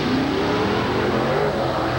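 A 1977 International Scout revs its engine hard during a mud race, a loud, sustained roar that stays close and steady throughout, with no voices over it.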